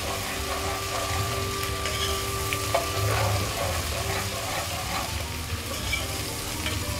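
Onion, crushed green chili and spices fry in hot oil for kadhi pakora, giving a steady, close, dense sizzle that holds evenly for the whole stretch with no voices.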